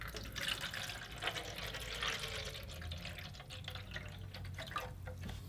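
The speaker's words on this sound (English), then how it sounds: "so let's go ahead and put some water in here." Water pours and splashes steadily into the reservoir of an air cooler, a continuous close trickle with drips and no talking.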